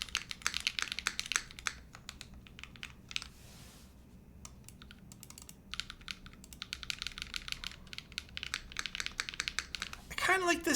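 Steady, fast typing on a tinyneko custom-built mechanical keyboard, crisp clacky keystrokes with a few brief pauses, close up, with someone talking quietly at times.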